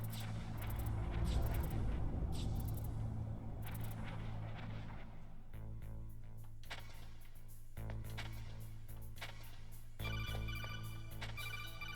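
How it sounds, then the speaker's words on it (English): A phone call rings in Metal Gear Solid, a repeating electronic ringtone heard alone over a low game ambience, with no talk. "we get a lot of phone calls here in the early part of this game"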